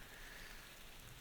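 Quiet, steady patter of rain, faint and even throughout.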